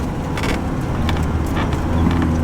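A 4x4 rumbles steadily over sand dunes on the Madigan Line, its engine drone loud and continuous with a few brighter bursts of effort as it climbs, no voices heard.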